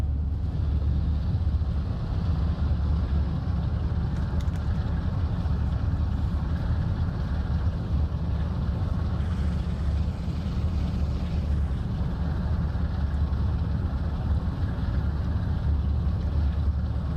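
In Train Sim World 2, a train accelerates at full throttle with a steady, heavy low engine roar and rumble that holds without break and stays constant throughout.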